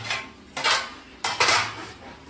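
Extra kitchen pots, plates and utensils being taken out during a household clean-up: two bursts of clattering metal dishes and cutlery, close and fairly loud, with quiet pauses between them and no talking.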